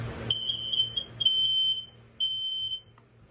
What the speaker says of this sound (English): So let's test this one.